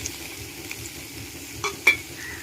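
Homestyle country chicken curry, with the skin on, is stirred in a pan together with a roasted coconut mixture and coconut bits. A low steady sizzle runs throughout, with a couple of sharp spoon scrapes and clinks near the end, and no talking.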